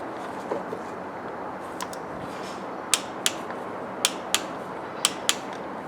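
A wrench tightening a new diesel glow plug in a Vauxhall Astra J A17DTJ engine, a run of sharp metallic ratchet clicks in quick pairs over quiet background noise.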